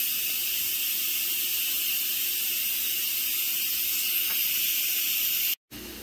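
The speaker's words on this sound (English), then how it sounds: "So that is what it looks like while it's depressurizing." An electric pressure cooker releasing steam through its valve as it depressurizes after cooking Spanish chicken and rice, a loud, steady close-up hiss that runs continuously, then cuts off abruptly near the end before briefly resuming.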